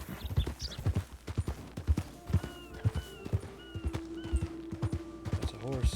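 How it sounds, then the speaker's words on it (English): Steady clip-clop of horse hooves walking at an even pace in a Red Dead Redemption 2 roleplay game, with a faint whinny and light background tones, no talking. "That's a horse."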